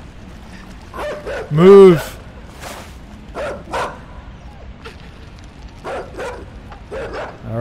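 A chasing dog in the side-scrolling game Inside barks sharply and loudly once near the start, followed by scattered smaller yips and footfalls, with someone briefly talking over the game sounds.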